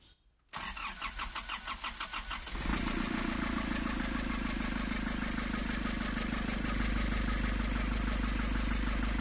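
A Nissan Urvan Estate ZD30 diesel engine cranks and catches after a short burst of rhythmic starter chugging, then settles into a steady, loud, close-up idle that holds evenly to the end; no one speaks.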